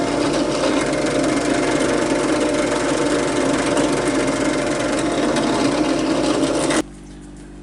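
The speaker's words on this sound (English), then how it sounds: "I decided to use the drill press just because it's cool." A drill press runs steadily, drilling through a DIY wheel spacer with a continuous motor whine and grinding hum before stopping abruptly near the end.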